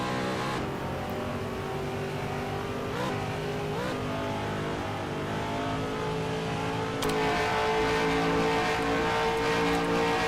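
Race car engines from the TMR sound pack in a superspeedway racing video game roar continuously and loudly, with pitch sweeps as cars rev and a sharper, brighter engine note rising in the last few seconds.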